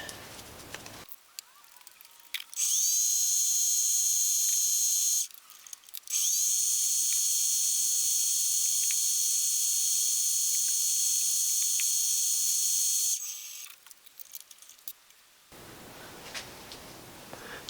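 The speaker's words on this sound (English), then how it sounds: "So this will put the final polish on it." A lathe spins a glowstone and tiger's eye ring against fine grit polishing pads, giving a loud, high, steady whine in two long runs with a brief pause between them. Quieter scraping and handling can be heard before and after.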